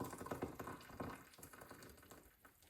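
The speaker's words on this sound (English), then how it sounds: "I'm going to add a pint of boiling water to that" A pint of boiling water pours into a stock pot holding seasoned broth with herbs for broccoli and Stilton soup, a steady close splashing gush that tapers slightly over a few seconds.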